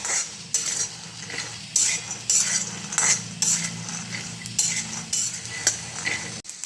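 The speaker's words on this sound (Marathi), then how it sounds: "चला, तडतड वाजता शेंगदाणे भाजून झालेले आहे." Peanuts roasting dry in a kadhai, a steady crackling and rattling as they are stirred with a metal spoon against the pan, close and loud, with no talking.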